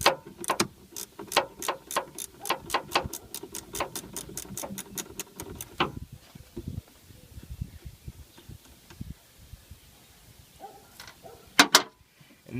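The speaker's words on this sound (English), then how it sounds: "take your wrench and take off these bolts" A wrench ratcheting on the bolts of a car windshield wiper, a quick, even run of close clicks for several seconds, then scattered faint clanks and a few sharp metallic knocks near the end.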